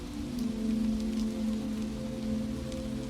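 Steady rain falls on a New York City street at night, a soft continuous patter with a low hum underneath, faint and even throughout with no voices.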